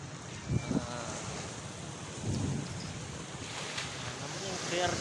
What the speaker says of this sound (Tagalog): ari dagat ito yung suara